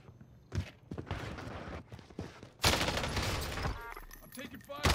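Gunfire rattles in a Warzone match, scattered bursts early then a dense, loud volley near the middle, with some voice mixed in.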